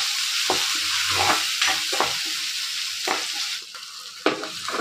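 Onion, chili, garlic and ginger frying for a tempering, a steady loud sizzle with several sharp scraping stirs of a spoon in the pan.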